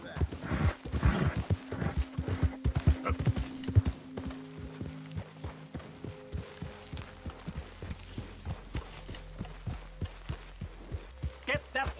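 Horse hooves in Red Dead Redemption 2 clop in a steady walking rhythm throughout, loud at first then settling into a regular gait, with a low musical drone and occasional voices.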